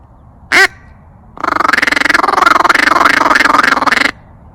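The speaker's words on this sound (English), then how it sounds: "I have a duck call just in case I want to call some ducks in." A hand-blown duck call in the woods, one short sharp quack followed by a long rapid run of loud, close quacking pulses that stops abruptly, with no talking.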